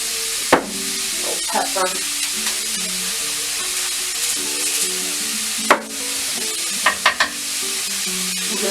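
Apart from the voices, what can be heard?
browning seasoned meat in a pan for Philly cheesesteak eggrolls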